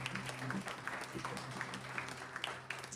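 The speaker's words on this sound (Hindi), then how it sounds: "इस समय हम उन स्त्रियों के लिए तालियां बजाएंगे" An audience at a Hindi church service claps together in a continuous, moderately loud patter of overlapping hand claps, with a faint voice in the background.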